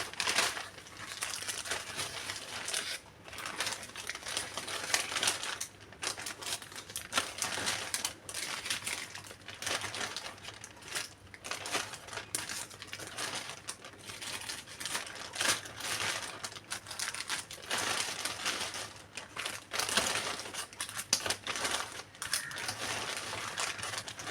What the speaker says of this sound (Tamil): இப்போ இது எல்லாத்தையும் சேர்த்து இந்த பெரிய ஜிப்லாக் கவரில் நான் போட்டுக்க போகிறேன்